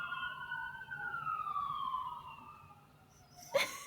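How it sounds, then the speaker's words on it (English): Emergency sirens wail in the distance, faint sweeping tones heard through an open window, followed near the end by a short sharp nearby noise. "Now the sirens in the background."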